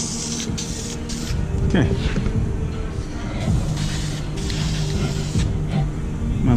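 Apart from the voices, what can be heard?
spray painting a gooseneck trailer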